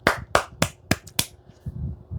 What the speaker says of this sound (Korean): 제가 위로의 박수 보내드리겠습니다